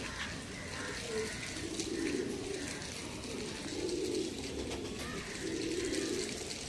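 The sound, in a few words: adult Lal Shira pigeon pair cooing in a cage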